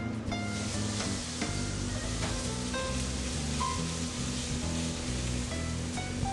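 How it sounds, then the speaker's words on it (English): Garlic browns in a hot pan in a restaurant kitchen, giving off a steady, dense sizzle with faint scattered clicks from the cookware, heard up close with no talking. "Now he's going to brown the garlic."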